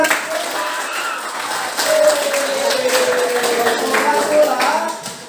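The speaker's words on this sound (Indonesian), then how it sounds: "Tepuk tangan." A class of students claps together in a classroom, a steady patter of hands lasting several seconds with faint voices underneath.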